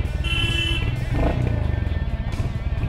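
Royal Enfield Hunter 350 motorcycle engine starts and settles into a steady thumping idle through its exhaust, close and continuous for a few seconds.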